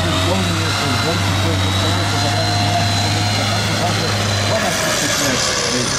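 The 250-horsepower engine of an Alvis FV4333 Stormer armored vehicle drones loudly and steadily, a constant low hum with mechanical noise throughout.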